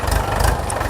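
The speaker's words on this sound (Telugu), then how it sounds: "ట్రాక్టర్ అయితే చూడొచ్చు రెడీగా ఉంది" A tractor engine idling at a grain unloading point, a steady, loud, low rumbling chug heard close for under a second.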